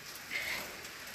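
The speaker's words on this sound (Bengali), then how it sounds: "বাইরে বৃষ্টি পড়ছে আর এখানে একটা টিনের শেড আছে" Rain falling outside a tin shed in a village, a soft steady patter of drops at low level without a break.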